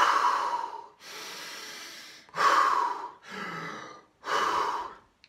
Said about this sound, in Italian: Poi ci sta una respirazione che serve per ossigenare il corpo, che è una respirazione simile a quella a fuoco